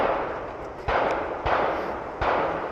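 Three rifle shots ring out at a long-range stage of an outdoor rifle match, each a sharp, loud report trailing into a rolling echo, spaced roughly half a second apart.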